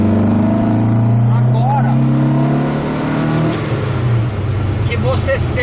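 A carbureted Volkswagen Beetle engine idles, then revs up under acceleration, loud and close, with someone talking over the engine noise.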